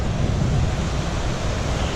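Crawdad Falls, a small waterfall on a state park trail, giving a steady, broad rush of falling water that stays constant throughout.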